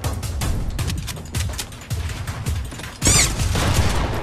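Rapid bursts of gunfire in the Fortnite battle royale game, a dense volley of shots with a louder, closer burst near the end and faint game effects underneath.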